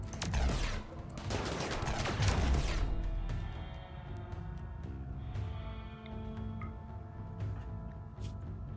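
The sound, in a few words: gunfire in Rimworld video game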